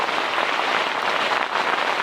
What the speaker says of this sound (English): just sitting inside, listening to it rain.